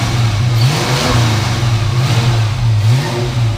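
A stock Ford Mustang Foxbody that sat for two years revs up close and loud, its engine rising and falling in several repeated swells over an uneven idle.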